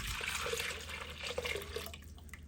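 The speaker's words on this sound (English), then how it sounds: "So I'm about to add my ferment and my milk mixture into my batter bowl." A sourdough ferment and milk mixture is poured into a batter bowl, giving a soft, steady liquid splash and trickle that runs for about two seconds and then tapers off. It is quiet and close.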